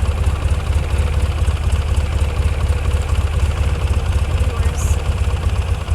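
An old Polaris ATV engine runs at a steady idle close by, a loud, even low rumble with a continuous chugging rhythm throughout.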